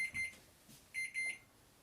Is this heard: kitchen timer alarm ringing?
yes